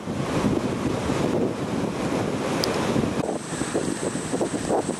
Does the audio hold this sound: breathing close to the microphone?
no